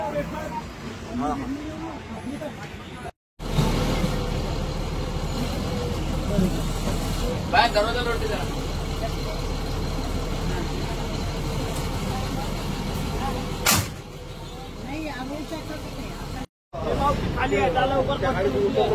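MSRTC buses idle and rumble at the Sillod bus stand while a crowd murmurs all around, a steady mid-level din broken by two brief dropouts, with a clang near the end.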